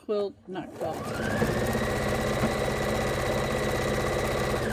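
A sewing machine stitches a scrap placemat, running in a fast steady hum after a few brief starts, close and continuous, with no talking.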